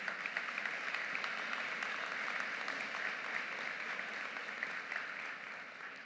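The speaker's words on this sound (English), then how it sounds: "give them a round of applause just in recognition of their support" Steady, even applause fills a hall at a spring university convocation ceremony, a dense distant wash of many hands clapping at constant strength that eases slightly toward the end.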